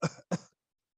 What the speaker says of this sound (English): One video shows the woman walking forward and coughing.